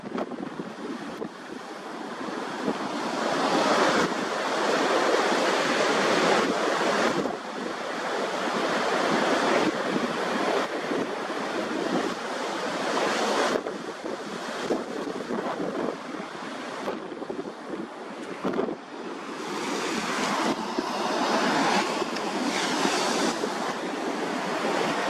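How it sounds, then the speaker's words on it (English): Ocean swell of 3-5ft at nine-second intervals shoals and breaks into surf under strong onshore wind, a continuous roaring wash with repeated heavy gusts buffeting the microphone and no voices. "if I look this way, the we'll be facing into the wind, so you might need to turn your volume down a little bit because it might get a little bit windy."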